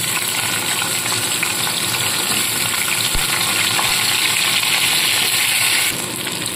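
Drumstick stalks frying in hot oil, a loud, dense, continuous sizzle heard close up, steady throughout with no talking.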